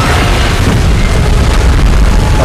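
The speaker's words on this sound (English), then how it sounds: "Is it gonna fire a beam at us?" A loud, sustained, deep roaring blast from a monster's beam attack during the Godzilla vs Kong event in PUBG Mobile, rumbling heavily for the whole stretch with no break.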